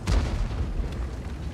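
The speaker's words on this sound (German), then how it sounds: "Emi hat einmal geschossen." A single heavy boom of a shot fired in a World of Tanks-style match replay, loud and close with a dense low rumble trailing off through the short clip, no talk over it.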